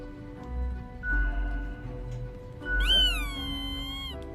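A cat in the video game Death and Taxes meows twice, a short call followed by a louder, longer drawn-out meow, clear and close over a soft musical background.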